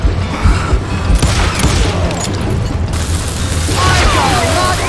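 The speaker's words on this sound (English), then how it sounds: "Who said you could throw dynamite?" Dynamite explosions in the Western shooter Call of Juarez Gunslinger: heavy booms and rumbling blasts over a loud, continuous din of gunfire and battle noise, with voices shouting in the mix.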